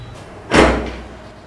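A door at the entrance thuds shut once, a single close, fairly loud knock-like slam rising abruptly from a quiet room and fading quickly.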